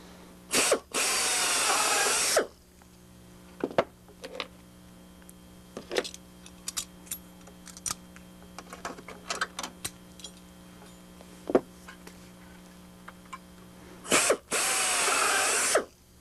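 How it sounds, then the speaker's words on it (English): Power drill boring through a pre-drilled aluminium splice plate into wood during RV-6 aircraft fuselage construction, two loud sustained whirring runs at the start and end, with scattered clicks and taps of handling between them over a steady background hum. "we're going to drill right on through the pre-drilled holes into the 605A and into the wood"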